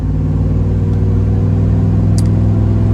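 A 2003 Chevy SSR truck accelerates hard in one gear along a straightaway, heard from inside as a loud, steady engine rumble and drone whose pitch climbs gradually through the rev range.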